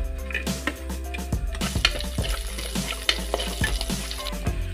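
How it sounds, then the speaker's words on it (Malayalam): Garlic and green chillies sizzle in hot oil in a pan for a home-style chicken noodles dish, a loud steady frying hiss broken by repeated scraping and stirring knocks from a spoon. "അപ്പം ഇതിൻ്റെ അകത്തേക്ക് നമുക്ക് ആദ്യം വെളുത്തുള്ളിയും പച്ചമുളകും ഇട്ട് കൊടുക്കാം."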